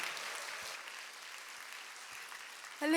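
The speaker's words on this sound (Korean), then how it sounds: "감사의 박수로 환영의 박수로 한번 모시도록 하겠습니다" A church gathering claps warmly to welcome a director at a teachers' training session, a soft, fairly distant steady applause that fades slightly before a louder sound cuts in at the end.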